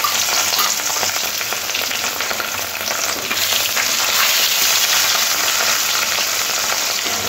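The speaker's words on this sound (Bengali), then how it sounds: "বাকি মাছগুলো একইভাবে ভেজে নেব।" Katla fish pieces frying in hot oil, a loud dense crackling sizzle that runs steadily throughout with slight swells, close up and without talk.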